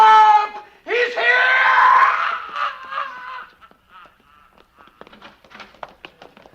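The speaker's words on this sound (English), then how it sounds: "It seemed like they were all released by that scream." A voice in an audio drama yells a loud, strained scream for help on a dark street, then silence breaks into faint scattered taps and footfalls.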